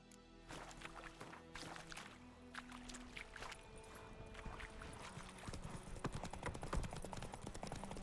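Roach, a horse in The Witcher 3, trots with steady clip-clopping hoofbeats under faint ambient game sound, quiet and even throughout.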